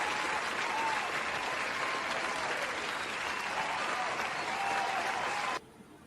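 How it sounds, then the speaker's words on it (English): An audience at a roast-style event gives a dense, even burst of applause for several seconds before it cuts off abruptly. "Give Ed Jones a oh, round of applause, ladies and gentlemen."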